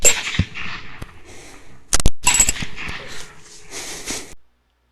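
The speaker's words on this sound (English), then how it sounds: "And this one gets some follow-up shots." Follow-up gunshots fired at a hog during a hunt, rifle reports heard as a sharp burst near the start, a tight double crack around the middle, then a fading tail of echo.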